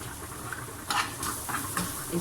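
Potatoes frying in a pan at home, a soft continuous sizzle with a few brighter crackling spurts and faint clinks, heard close and alone without talk.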